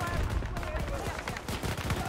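Close-range gunfire while shooting enemies in Battlefield 2042, a rapid series of sharp repeated shots at moderate loudness across two seconds, with a voice talking over it.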